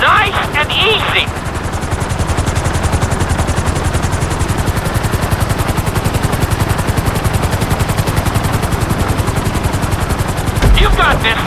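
Helicopter in GTA 5 setting down on a landing pad during a flight school course: a loud, continuous rotor chop with rapid pulsing throughout, under voice-like chatter.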